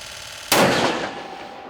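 A single sharp, loud shot from a new sniper rifle cracks out after a quiet moment and rings off briefly, with faint background noise.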